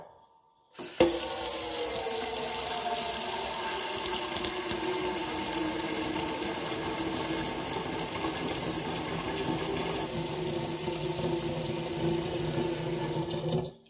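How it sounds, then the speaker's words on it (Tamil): Water runs steadily from a tap into a cooking pot, a continuous rushing splash that starts abruptly and holds at an even level until it shuts off. "தண்ணி பிடிச்சிக்கலாம்."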